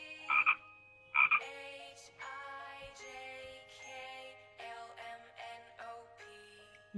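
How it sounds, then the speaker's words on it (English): Frogs croak in a steady chorus of rasping calls, with a couple of sharper bursts at the start, fairly close and alone. "Frog."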